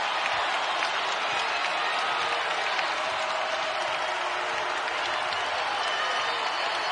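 A basketball arena crowd at a Kentucky versus South Carolina college game claps and cheers in a dense, continuous roar of applause that holds steady throughout, with indistinct voices mixed in.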